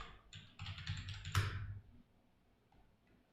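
Keys clatter on a computer keyboard in a quick burst of typing, close and fairly soft, then fade to near quiet with only a few faint clicks.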